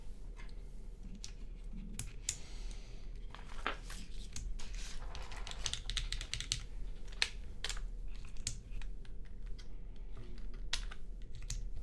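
Keycaps click and tap faintly as they are pressed back onto a Gehirn60 DynaCap keyboard. The quiet, irregular plastic clicks are scattered over a low background hum.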